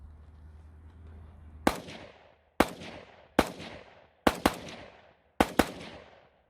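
Sharp, loud gunshots echo at a Ukrainian Volunteer Corps training battalion, coming singly and in quick pairs, seven reports in all, each with a long ringing decay.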